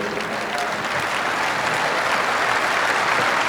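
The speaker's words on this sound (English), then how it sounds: "the first time Mike Vernon's received applause in Edmonton in his life" Audience applause in an Edmonton arena, a dense, steady wash of clapping that holds loud and even for several seconds with faint crowd murmur beneath.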